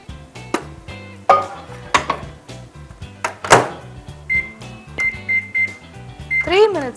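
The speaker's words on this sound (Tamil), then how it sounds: "இது எல்லாம் வந்து நம்ம மைக்ரோவேவ் பண்ண போகிறோம்." A microwave oven beeps a few times amid clattering dishes and utensils, with intermittent talking nearby.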